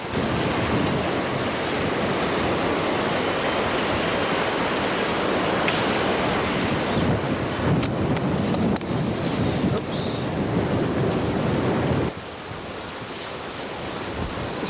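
Ocean surf at Poipu beach washes in as a steady, loud broadband roar from the waves, with gusts of wind buffeting the microphone and the level dropping slightly near the end, with no one talking.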